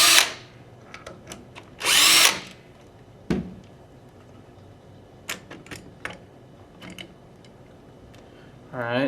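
A cordless power drill whirs in two short bursts while removing the receiver bolts of a 98PS rifle, close and loud, between clicks and small handling knocks.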